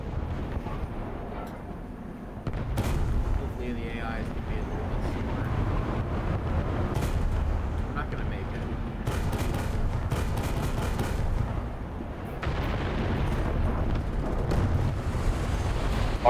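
Explosions in the video game War Thunder as a target is destroyed: several heavy booms and blasts scattered over a continuous rumbling background, with some talk mixed in.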